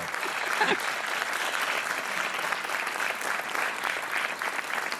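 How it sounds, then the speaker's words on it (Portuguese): The studio audience of the RTP 1 quiz show Joker claps for a contestant, a sustained wash of many hands at moderate volume, with a brief voice near the start. "Para já um aplauso merecidíssimo para a Isabel, a nossa super joker."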